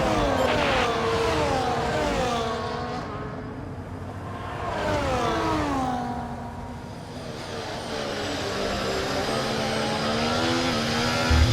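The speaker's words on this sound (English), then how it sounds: "There's something strange with the engine." An F1 car in the racing game F1 24, its engine sounding strange as it revs up and down in long rising and falling sweeps, loud and continuous with no talk.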